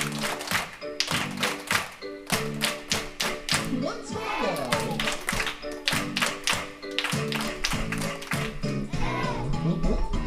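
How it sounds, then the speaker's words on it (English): Rhythmic hand clapping in a steady repeating pattern for a children's clapping song, sharp claps close and loud, with a voice singing along and speaking over them. "Now it's going to be your turn to try the clapping part."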